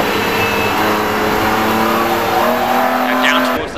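Pre-1993 touring race cars braking downhill into Mansfield at Cadwell Park, engines loud and close, revs dropping and then climbing again in a sustained blare with a brief tire squeal near the end.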